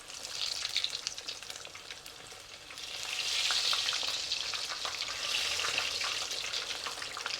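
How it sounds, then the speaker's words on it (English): Pork ribs shallow frying in oil in a wok give a steady close sizzle and crackle, swelling louder midway, with occasional stirring scrapes and no talk. "shallow frying this first, because we want to cook the pork properly"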